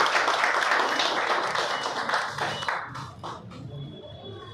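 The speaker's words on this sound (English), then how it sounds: "let's give a round of applause" At the inauguration of a renal transplant facility, an indoor audience gives a dense round of applause that fades after a few seconds, leaving a few scattered claps.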